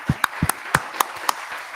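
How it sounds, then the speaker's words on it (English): A few sharp, separate hand claps ring out in a room at an international business event, a sparse, uneven burst of about half a dozen close claps rather than full applause. "a big round of applause to show how much the energy is there in the room"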